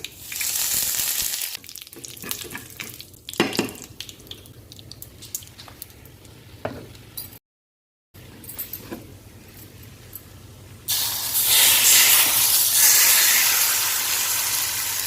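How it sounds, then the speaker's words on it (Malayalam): Mustard seeds splutter in hot oil with cumin, fenugreek, dried chilli and curry leaves for a sweet and sour mango dish, giving close crackling pops and sizzle. A brief dropout comes midway, and a louder hissing surge follows near the end. "ഒരു നുള്ള് ജീരകവും ഒരു നുള്ള് ഉലുവ ഒന്ന് പൊടിച്ചിട്ടുണ്ട് അത് ഞാൻ ആ കടുക് വറുക്കുന്നതിൻ്റെ അകത്തോട്ടിട്ട് കേട്ടോ വറ്റൽമുളക് കരിയാപ്പില അങ്ങനെ എല്ലാം കൂടെ ഒന്ന് കടുക് വറുത്ത്"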